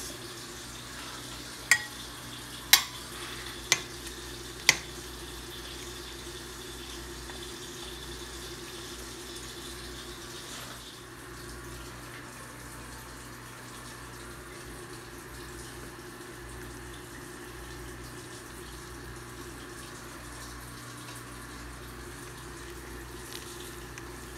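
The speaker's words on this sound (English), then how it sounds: "So now let's go ahead and strain in our sauce." Birria sauce is strained, a continuous trickling pour of liquid running steadily after a few sharp knocks at the start.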